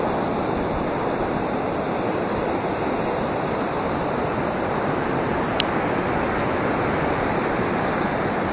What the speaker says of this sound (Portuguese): O primeiro encontro com o Oceano Pacífico.